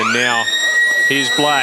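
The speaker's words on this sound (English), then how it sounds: "And that's the siren for three-quarter time." A long steady stadium siren marks three-quarter time at an Australian rules football match, holding throughout, with a commentator talking over it in bursts at the start and end.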